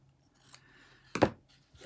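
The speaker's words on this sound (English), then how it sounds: "I'm just going to use my scissors and I'm just going to cut" Scissors cut through quilting fabric while a patchwork quilt block is being sewn. A single crisp, close snip stands out clearly after some faint rustling.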